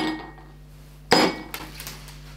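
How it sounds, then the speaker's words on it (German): Ice cubes dropped one at a time into drinking glasses, giving a loud sharp clink followed by a few fainter knocks and rattles, with no talking. "dann machen wir hier schön in jedes Glas einen Eiswürfel rein"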